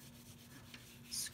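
Wet photo paper being scrubbed by hand, a short soft rubbing rasp, close and quiet, brief and without any talking.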